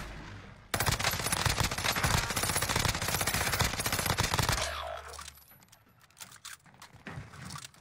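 Rapid automatic gunfire in a video game, a dense sustained burst of shots lasting several seconds, then fading into scattered quieter sounds.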